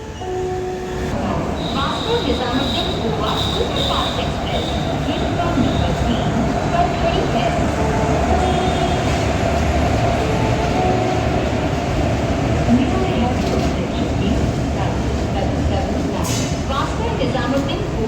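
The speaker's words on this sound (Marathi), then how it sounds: "येस ही आली आपली पुणे बारामती गाडी" An express train on the Pune–Baramati route pulls into a station platform, a steady loud rumble of wheels and carriages rolling past with a thin high squeal at times, station noise and voices mixed in throughout.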